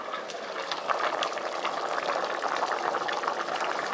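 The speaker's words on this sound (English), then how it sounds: "Now the filled grams have been boiled and cooked nicely." Field grams boil in a pot of water over a flame during village cooking, giving a steady, dense bubbling that runs unbroken throughout with no voices.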